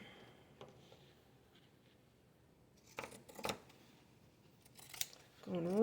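Scissors trim fabric on a cardboard journal cover. A few quiet snips are spaced out, then a louder cluster of cuts and a close, sharp snip at the very end.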